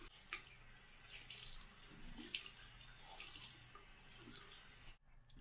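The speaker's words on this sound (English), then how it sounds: "Let me wet my beauty blender with hot water." Hot tap water runs onto a beauty blender sponge, a soft continuous splashing hiss close by that stops abruptly near the end.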